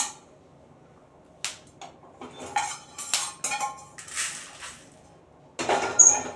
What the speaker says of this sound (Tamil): இதை நாம் ஒரு பிளேட்டுக்கு மாற்றி ஆற வச்சுக்கலாம்